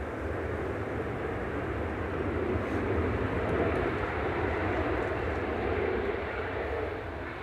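A Ryanair aircraft, flight 3186 from Madrid, passes with a steady, broad engine rumble heard from a distance, even and continuous with no talk.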